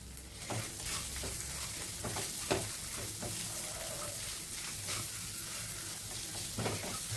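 Mashed potato is stirred in hot oil in a pan, giving a soft continuous sizzle broken by irregular spatula scrapes and clicks, close and fairly quiet.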